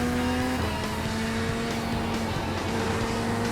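A GT3 race car at Road America in a racing video game drones loudly and steadily as it works through corners, engine pitch dipping and climbing with shifts, with faint tire noise.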